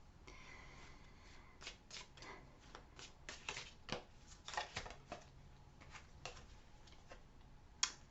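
Tarot cards shuffled and drawn by hand for a pick-a-card relationship reading, a quiet run of soft riffling and crisp flicks and taps at close range, with one sharper snap near the end and no talking.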